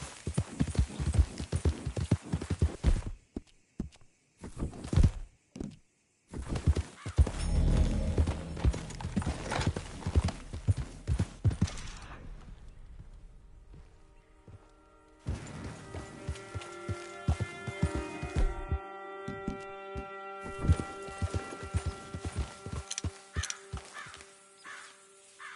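A horse gallops in Red Dead Redemption 2, hooves clip-clopping in fast rhythmic bursts that cut in and out, with crows cawing and music-like tones rising later.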